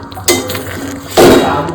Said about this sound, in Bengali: সমস্ত ভাজা পটল দিয়ে সুন্দর করে আমি নেড়ে মিশিয়ে সিমে দেবো।